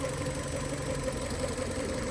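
A Fiat 500 engine idles steadily with a low, even mechanical hum and faint knocking texture, heard close and alone without speech.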